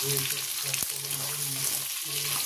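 Onions and capsicum frying lightly in a pan for chilli chicken make a continuous, close sizzle over a low steady hum, with one brief click partway through.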